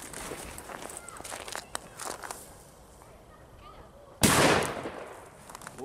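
A single Signalos 3.0 firecracker goes off in one sharp, loud bang near the end, preceded by footsteps and rustling outdoors during a decibel meter test.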